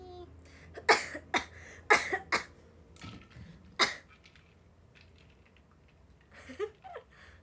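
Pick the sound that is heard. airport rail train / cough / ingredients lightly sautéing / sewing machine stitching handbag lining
cough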